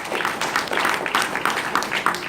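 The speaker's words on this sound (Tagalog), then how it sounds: "Palapakan po natin ng Panginoon yung malakas na palakpak." A church congregation applauding during a prayer service, with fairly loud, brisk clapping in a steady rhythm and no speech over it.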